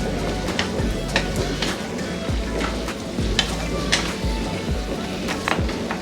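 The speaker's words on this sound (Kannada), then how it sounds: "ಟೊಮೆಟೊ ಫುಲ್ಲು ಸಾಫ್ಟ್ ಆಗೋ ತನಕ ಇದನ್ನು ಫ್ರೈ ಮಾಡ್ಕೊಳ್ಳೋಣ" Tomato, garlic, green chili and onion frying in a pan for okra chutney, a steady close sizzle with regular scraping strokes of a spatula and no talking.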